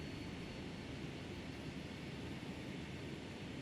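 Jet engines of a Boeing 757 idling during taxi in the FSX flight simulator, a steady broadband roar with a faint high whine, constant in level and without talk.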